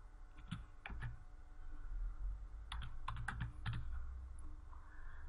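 Typing a bank statement number on a computer keyboard during accounting data entry, with bursts of quick, close key clicks separated by short pauses and no talking.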